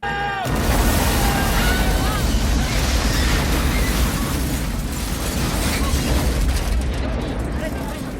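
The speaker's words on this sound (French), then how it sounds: "Voyons d'abord comment Choi Ark filme une explosion dans Double Team." A film explosion from the action movie Double Team: a sudden onset followed by a sustained, dense roaring rumble with crackling debris that stays loud and near for several seconds, with a voice briefly heard over the blast.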